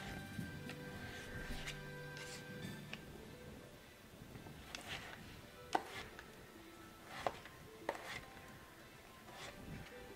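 A knife slices a potato on a bias against a cutting board, producing a series of soft, close chopping taps at irregular intervals over a quiet background.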